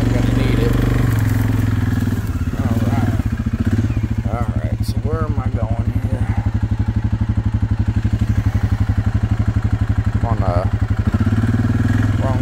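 A Suzuki KingQuad 750 ATV engine chugs in low gear with a fast, even thumping rhythm, loud and close throughout, while someone talks over it intermittently.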